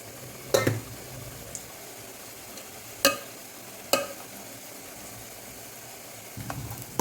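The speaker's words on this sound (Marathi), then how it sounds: "मी सगळा भात याच्यामध्ये टाकून घेतलेला आहे पातेल्यात" Cooked rice for a mutton biryani is dropped into a pot in a few separate scoops, each a short sharp scrape or thud over a quiet sizzling background, close by with pauses between.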